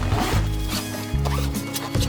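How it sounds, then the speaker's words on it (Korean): Zipper on the fabric dust bag of a ball-jointed doll being pulled open in several quick strokes, close and fairly loud, each rasping pull separated by short pauses. "소미불이 이렇게 지퍼 형식으로 되어 있어서 이걸 열면 되게끔 돼 있어요"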